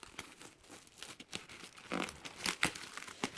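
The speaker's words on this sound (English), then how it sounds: "Wrapped in bubble wrap, which they graciously taped shut." Bubble wrap taped shut around a boxed Can-Am Fire Angel FA-1 smoke detector being pulled open, giving close, irregular crinkling and tearing rustles that build into denser bursts near the end, with no talking.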